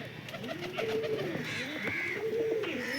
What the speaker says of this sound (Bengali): মুন্ডো সাদা জিরিয়া পায়রা।